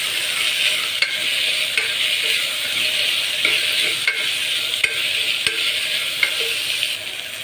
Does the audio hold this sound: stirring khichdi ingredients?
yes